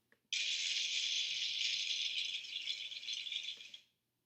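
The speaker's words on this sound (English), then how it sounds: "Did you hear that? That's the sound of hail." After a brief quiet moment, falling hail starts abruptly as a dense, even rattle of small ice pellets striking, staying steady for several seconds before fading out.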